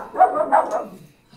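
A dog barks two or three times in quick succession, fairly close and clear, with a brief trailing yip, heard alone with no talking.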